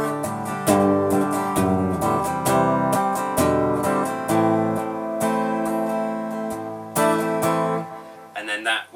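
Guitar strummed through the chord progression of a song, a clear run of rhythmic chord strokes that changes chords several times and rings close and loud before a brief scratchy ending.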